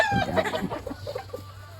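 A gamefarm hen gives a short burst of clucks, quick at first and then slowing into a few spaced, soft clucks, close and clear.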